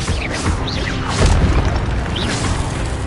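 Dense, loud barrage of magical spell effects from Hogwarts Legacy combat, booming blasts and crashes layered with whooshing sweeps, continuous and busy with a heavier surge at the midpoint.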